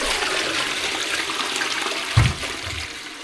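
A toilet with a blue in-cistern block is flushed, a close, loud continuous rush of water with a thump partway through as the flow changes, no voices over it.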